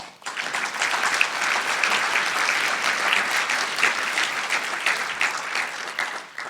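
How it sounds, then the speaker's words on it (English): Sustained applause from a large audience, steady clapping that fills the whole stretch without a break. "give yourselves a huge round of applause for that"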